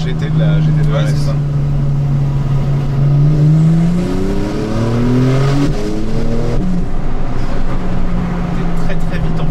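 Porsche 911 991.2 GTS pulling hard under acceleration, its engine note climbing steadily through the revs and staying loud and close from start to finish while people talk over it inside the car.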